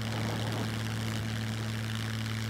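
Aircraft propeller engine in the video game SCUM, a steady droning hum with a strong low tone, continuous and even throughout with no voices.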